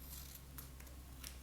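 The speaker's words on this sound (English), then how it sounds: "With my scissors, I'm going to trim off" Scissors trimming a piece of paper card while making a teacup Mother's Day card, a few soft crisp snips over a low steady background hum, close and quiet.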